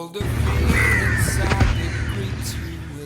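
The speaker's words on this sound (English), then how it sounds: "There's a lot of crows at the marina, often gathering along the docks and on the mast and the rooftops everywhere." Crows caw at a marina on Pangkor, Malaysia, with a few harsh calls sounding close above a steady background hum from the docks.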